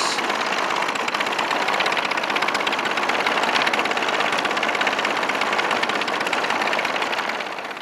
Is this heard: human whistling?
no